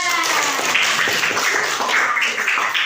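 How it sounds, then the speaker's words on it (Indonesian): A crowd applauding steadily, a dense wash of clapping that holds at an even level throughout. "Ya, kasih tepuk tangan untuk Alga."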